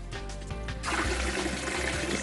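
Milk pours into a dish called a kuba, a short trickle that swells into a steadier, fuller stream near the microphone, with no voices.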